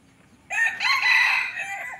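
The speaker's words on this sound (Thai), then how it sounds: "ตัวนี้ขันเสียงเล็กเสียงเพราะ" A red junglefowl rooster gives one close, clear crow with a small, sweet voice, starting abruptly and holding for about a second and a half against a quiet background.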